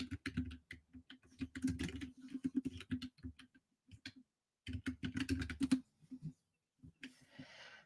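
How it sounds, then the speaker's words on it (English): Someone types on a computer keyboard in quick bursts of close, crisp key clicks, stopping briefly between bursts, with no speech. "Let me try typing your name in and see if it works that way"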